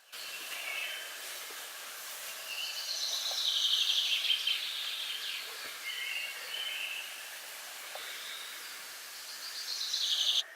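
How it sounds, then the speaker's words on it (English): New Zealand native birds sing and chirp steadily in the distance over a soft, airy hiss on a morning forest walk, with brighter bursts of song rising and fading throughout. "you can hear the New Zealand birds just singing away this morning"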